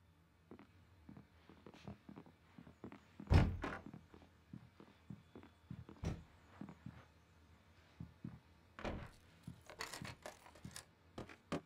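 A locked door in the Alan Wake game being worked open with scattered thunks and rattles, then one loud clunk as it gives, followed by further handling knocks and footsteps in a quiet interior.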